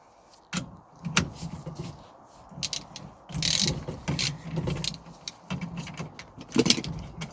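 Repeated mechanical clicking and metallic ratcheting from a socket ratchet working on the steering wheel nut of a 1967 Triumph Spitfire, in irregular close bursts with pauses between.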